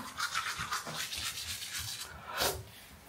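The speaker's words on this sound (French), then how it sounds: "Brosse à dents time." An 18-month-old toddler's teeth are brushed with a toothbrush: close, continuous scratchy scrubbing strokes in quick rhythm, loud and alone, pausing briefly before a final burst.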